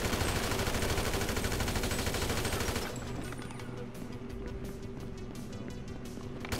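Gunfire in Grand Theft Auto V: a dense, loud broadband rattle of rapid shots fills the first three seconds, then drops to a quieter background of scattered pops and game noise.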